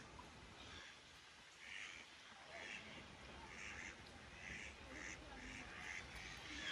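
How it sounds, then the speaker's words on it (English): Many ducks quacking and a few crow-like calls repeating in short bursts outdoors, fairly distant and faint against a broad wash of background noise. "look at all the ducks."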